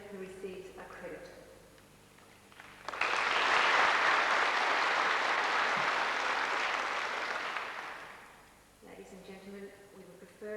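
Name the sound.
audience applause at school prize-giving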